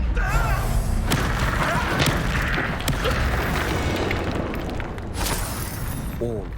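Confringo blasting spell explodes in Hogwarts Legacy: several sharp booming bursts land over a steady, busy game soundscape, each with a quick crackling tail.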